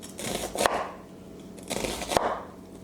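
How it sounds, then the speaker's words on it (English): A knife rough-chops an onion on a cutting board at home, with two distinct rounds of quick crunchy cuts, each ending in a firmer knock against the board, close and fairly quiet. "Take your time, go for a rough chop."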